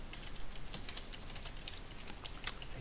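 Light, rapid clicking of keys on a computer keyboard, quiet and continuous with no talk.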